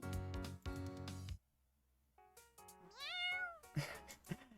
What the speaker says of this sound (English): I forgot that I still had a command to meow.